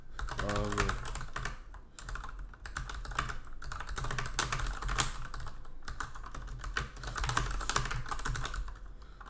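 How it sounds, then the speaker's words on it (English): Fast, continuous typing on a computer keyboard, dense rapid key clicks close to the microphone with brief pauses, over faint background sound. "God, I hate typing."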